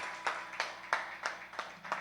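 Six evenly spaced hand claps ring out faintly at a church service, a rhythmic soft clapping from the congregation with quiet room tone between the beats.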